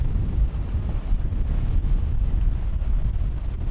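Strong wind buffets a sailing yacht racing at sea off Amalfi, a loud, steady roaring rush of gusts with low rumbling wash and no voices.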